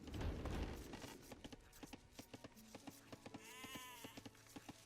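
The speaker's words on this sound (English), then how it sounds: "we have Blue with 10 villagers killing 2 sheep each" Sheep bleating in Age of Empires come in short repeated calls, overlapping a rapid run of clicking chop and hit sounds as villagers kill sheep in the game.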